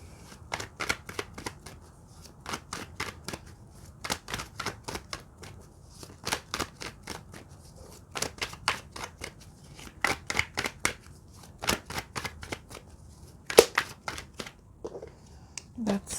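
Tarot cards shuffled by hand in repeated quick riffling bursts, crisp and close, with brief pauses between rounds and no talk.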